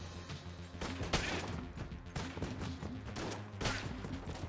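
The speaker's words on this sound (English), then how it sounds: "I'm shooting on instinct now" Rapid, fairly quiet Enter the Gungeon gunfire chatters in repeated bursts over a low, pulsing game music bed.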